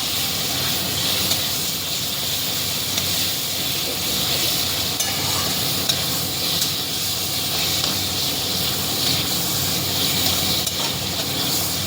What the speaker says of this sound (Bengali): তেঁতুলটা দিয়ে একটু ভাজা ভাজা করে নেব।